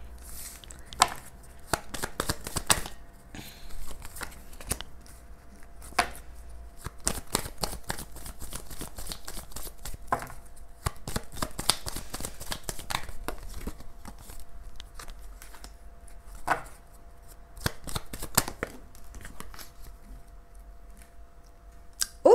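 Tarot cards are shuffled close by in soft, repeated bursts of riffling and slapping, with short pauses between runs and no talking.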